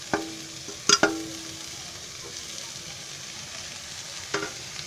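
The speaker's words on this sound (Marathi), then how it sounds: "आता मी त्याच्यामध्ये भाजी टाकते. त्याच्यात टोमॅटो पण टाकते." Fenugreek leaves and tomato drop into a pan of browned onions with a sharp hiss, followed by a few scraping stirs and a steady low sizzle, with no talking.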